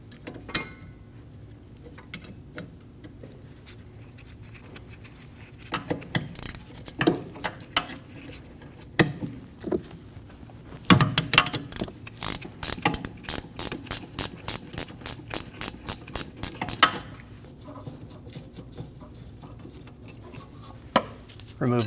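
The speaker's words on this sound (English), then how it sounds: "Using a 13mm wrench, we're going to loosen and remove the caliper bolts." A ratcheting 13mm wrench loosens the rear brake caliper bolts on a Volkswagen Passat, first in scattered clicks and then in a fast, steady run of close ratchet clicks before trailing off.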